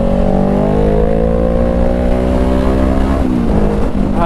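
A 2020 Honda CBR500R motorcycle engine hums loudly and steadily while riding. Its pitch climbs smoothly through the revs, then drops with a gear change before rising again.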